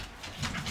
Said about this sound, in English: We got the dog playing.